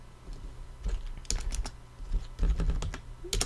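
Quick bursts of keystrokes on a computer keyboard while a command is entered on a Raspberry Pi, with clustered clicks and brief pauses, close and clear over a soft background hum.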